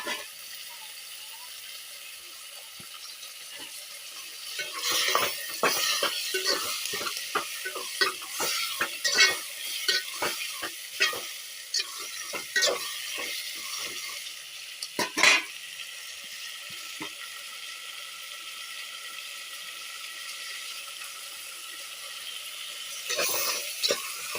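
Tomatoes sautéing in a pan for a village-style chicken curry: a soft, steady sizzle broken by bursts of spoon scraping and clinking against the pan, with quieter stretches before and after the stirring, no talking.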